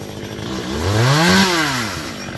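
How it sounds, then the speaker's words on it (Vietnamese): Chainsaw cutting into a large tropical almond tree, the engine loud and close as it revs up in one sweeping rise and falls back over a couple of seconds. "chú mình ở trên đó bắt đầu chuẩn bị cưa nha các bạn"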